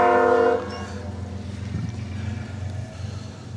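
A grain train passing through downtown Arklow in Madisonville, Kentucky sounds a loud, sustained horn blast, then the steady low rumble of rolling railcars continues up close.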